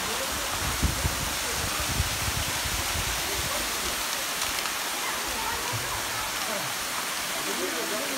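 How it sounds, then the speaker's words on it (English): A waterfall at Lytle Creek roars as a constant, dense wash of rushing water, loud and steady throughout. "Look at that waterfall."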